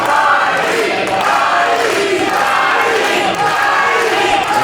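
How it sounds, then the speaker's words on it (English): A live wrestling show's crowd cheers and shouts loudly and continuously, a dense roar of many voices filling the whole stretch without letup. "And this crowd trying to will on Riley Jackson."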